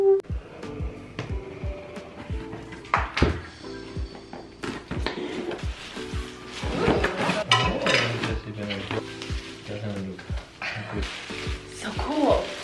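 Rustling and crinkling packaging with scattered knocks and clatter as a new vacuum cleaner is unboxed, while people talk excitedly over it.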